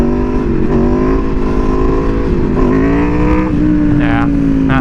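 An Aprilia Tuono V4R motorcycle's V4 engine drones loudly and close during a slow wheelie, holding a steady throttle note that shifts up and down in pitch slightly.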